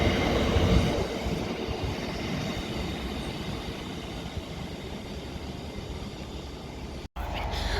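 A passenger train rolls through Kensington Olympia station, a loud steady rumble of wheels and carriages close by that carries on throughout, with a brief dropout near the end.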